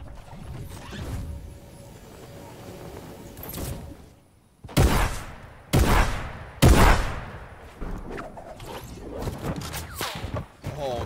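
Sniper shots in Fortnite: three loud, sharp cracks in quick succession midway through, each with a short tail, over game noise and mechanical clatter.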